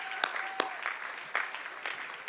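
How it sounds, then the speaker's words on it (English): Scattered applause from an outdoor audience at an ALS charity walk, thanking sponsors; sparse, fairly quiet clapping with a few sharper individual claps standing out, heard from a slight distance. "Big round of applause for our sponsors and resource there."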